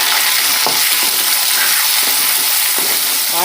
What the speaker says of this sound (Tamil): ஒரு பெரிய வெங்காயம் ஒரு பத்து கலர் சேர்த்து நல்லா வறுத்துக்கணும்